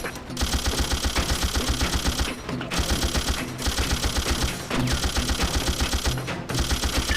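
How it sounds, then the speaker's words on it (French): Sustained automatic gunfire from SOCOM Fireteam Bravo, rapid repeating bursts with a pounding low beat and brief gaps, loud and close throughout with steady combat clatter. "Viper ciblé par des tirs."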